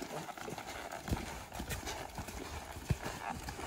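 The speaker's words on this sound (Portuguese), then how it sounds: "Estou iniciando ele no galope, certo?" A young horse being started at the gallop on the left lead, its hooves beating a quick, rhythmic clip-clop on soft ground, moderately close, with a person talking over it.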